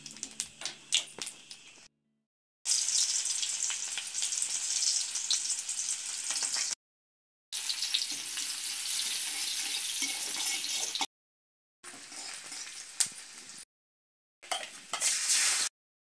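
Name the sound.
fish frying in pan for spicy curry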